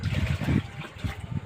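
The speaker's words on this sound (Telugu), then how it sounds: "బియ్యం కడిగిన నీళ్ళు ఇంకో లీటర్ పోసుకున్నాం." Rice-washing water poured into a container while mixing a fruit-peel fertilizer for plants, giving a short, low, gurgling splash that pulses unevenly and tapers off at close range.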